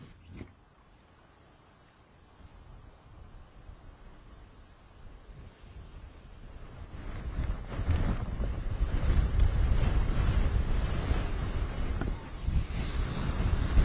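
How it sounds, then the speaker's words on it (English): A big gust of crosswind blows across an outdoor game field. Wind rumble starts low and builds into a loud, sustained roar against the microphone, dips briefly, then picks up again. No one speaks. "Right when Grant went to hit that, we got a big gust blow in."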